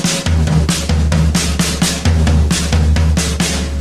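A drummer plays a drum set crossover pattern slowly, his right hand crossing over the left, giving a steady, even stream of loud, close cymbal and drum hits over a low booming pulse, with no talking.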